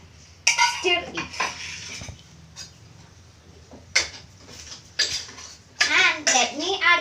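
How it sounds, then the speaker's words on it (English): Noodles, vegetables and sauce are stirred in a frying pan, heard as scattered clinks and scrapes of a utensil against the pan while a person talks in between. "and stir it."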